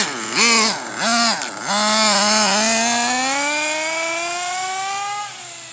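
A used Hyper .21 nitro engine on an RC vehicle screams close by, revving in two quick bursts and then holding a long, high, rising whine before dropping off abruptly.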